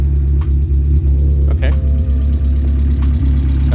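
A Mazda Miata engine idles steadily after a head gasket replacement, a loud, continuous low rumble with an even rhythmic pulse close to the microphone, while a person talks over it.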